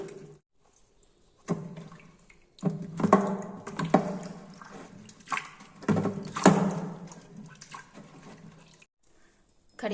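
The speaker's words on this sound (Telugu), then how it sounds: "టమాటాలు 3 తీసుకుందాం. వీటిని బాగా కడిగి" Three tomatoes are washed by hand in water, giving sloshing, splashing bursts that come and go with short quiet gaps between, close by and fairly loud.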